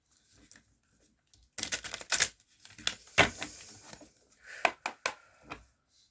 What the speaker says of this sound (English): We're going to cut the deck.